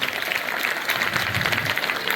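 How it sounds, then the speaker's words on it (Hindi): Audience applause for a guest at a village gathering in Rakseda, India: steady, dense clapping from a crowd that fills the whole short stretch at an even level, with no speech over it. "एक बार बिल्कुल जोर से तालियां सर के लिए"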